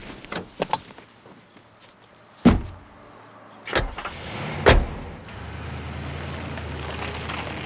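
Car doors thud shut one after another, with clicks and latch sounds as people climb in, followed by a low steady engine idle that settles in toward the end.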